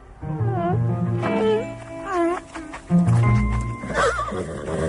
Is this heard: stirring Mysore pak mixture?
no